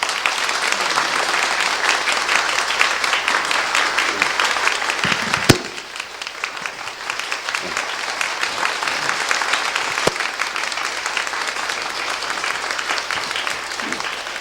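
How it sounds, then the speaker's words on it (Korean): An audience claps warmly and steadily to welcome a pastor to the stage at a church service, a dense, sustained roar of applause that dips briefly partway through and then carries on at full strength. "김 목사님 나오실 때 한번 뜨거운 박수로 환영해 주시면 고맙겠습니다"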